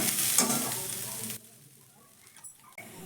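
Drained mung dal with spices stirred in a hot pan, a loud sizzle and scrape that drops abruptly to a quieter crackle with a couple of soft utensil knocks.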